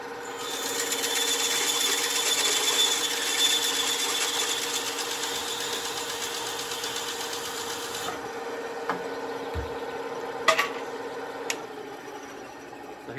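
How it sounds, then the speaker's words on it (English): A bandsaw cuts through a wooden board, giving a steady whirring buzz for about eight seconds before the blade winds down, followed by a few knocks and clatters of the wood being handled. "Turn on my bandsaw here."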